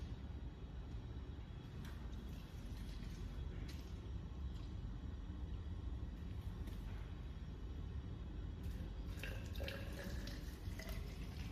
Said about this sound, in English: I'm going to pour about 15 millimeters of water into each of them at the same depth.